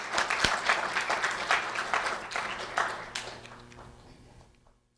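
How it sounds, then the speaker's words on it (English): Applause at a community awards ceremony honoring a fifth grade student: a moderate crowd claps briskly, loudest at the start, then gradually tapers off and fades out over about five seconds. "A round of applause for Elenis Reyes, please."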